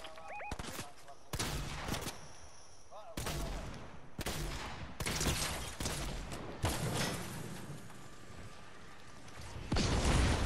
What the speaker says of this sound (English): Oh, there's an enemy shooting.